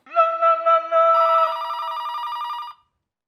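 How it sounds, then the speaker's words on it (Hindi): A telephone rings loudly and close, with bright electronic trilling tones in a couple of short bursts before cutting off. "लेकिन फोन बज रहा है ना भैया।"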